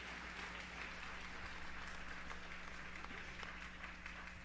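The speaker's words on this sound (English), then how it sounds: "Yeah, you can clap for that" A 2024 St. Charles West High School commencement crowd claps in a steady, dense, even wash of applause heard from a distance, with a low steady hum underneath and no speech.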